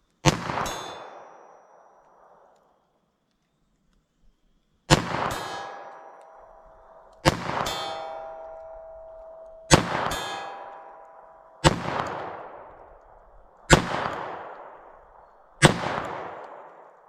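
Seven sharp .22 LR rifle shots firing CCI Uppercut rounds into ballistic gel, spaced about two seconds apart after an initial pause, each a loud crack followed by a ringing metallic decay outdoors.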